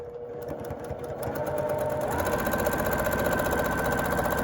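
A sewing machine runs steadily, stitching a quarter-inch seam on a baby pinwheel quilt, its motor hum starting softer and rising to a constant, close, continuous whir with no talk over it.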